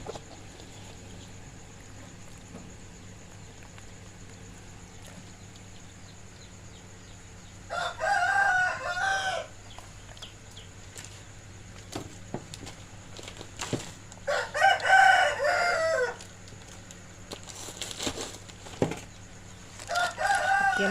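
A rooster crows three times at a moderate distance, each call a drawn-out harmonic cry spaced several seconds apart, over a steady low outdoor hum.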